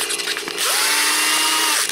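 The metal shaft of a Wico arcade joystick gets roughed up with sandpaper under a loud, steady motorised whir that settles into a constant drone, close and with no talk over it.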